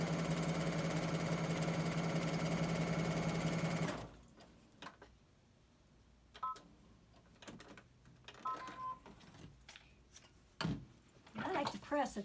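A sewing machine stitches a small straight seam for a mug rug, buzzing loud and steady for a few seconds before stopping, after which quiet handling clicks and a person speaking follow.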